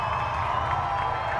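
A crowd cheers and applauds at a speedway after a limited late model feature race win, a steady, dense roar of voices with scattered whoops throughout.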